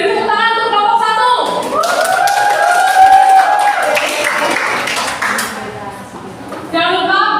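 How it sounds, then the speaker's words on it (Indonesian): A classroom of children clapping for the first group, loud and close, with kids' voices chattering over the applause before it tapers off near the end. "Yuk kita langsung saja beri tepuk tangan untuk kelompok 1."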